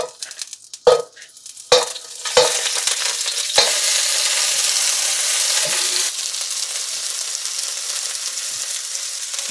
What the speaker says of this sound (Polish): wrzucę brokuła, kalafiora i cukinię jakby tu była. Czyli trochę oleju, zaczynam od grubasów.